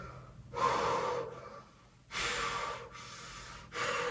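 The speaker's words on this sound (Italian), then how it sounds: "respirando con il respiro di consapevolezza, ossia dalla bocca prendete l'aria dalla pancia, e un po' più profondo del respiro normale" Deep, slow breaths drawn in through the mouth and into the belly during a kundalini breathing exercise, three close, airy inhalations separated by quiet pauses.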